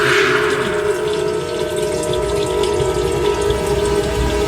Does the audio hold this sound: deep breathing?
no